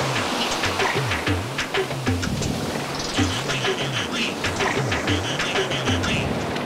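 Broad, steady rush of surf washing in, loud and close, with people talking and calling out over the roar of the water.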